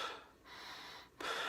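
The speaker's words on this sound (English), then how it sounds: "I'm breathing in through my nose" A person lying down doing Wim Hof breathing, drawing two quiet, close breaths in through the nose with a short pause between them.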